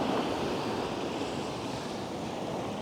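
Sea waves wash steadily onto a shore where seals gather, a continuous broadband surf roar with wind noise buffeting the microphone, no voices.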